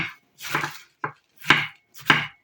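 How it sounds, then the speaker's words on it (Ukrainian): Several crisp knife chops through cabbage against a board, uneven in rhythm, close and clear with short silences between strokes. "Капусту нарізайте, як вам зручно, хто кубиком, хто солонкою"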